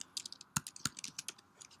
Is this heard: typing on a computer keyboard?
yes